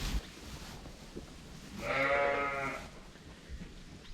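Nervous ewes bleat in a barn, a clear wavering bleat of about a second standing out from quiet background, close to the listener.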